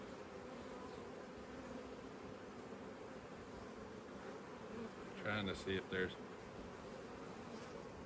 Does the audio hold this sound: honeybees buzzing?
yes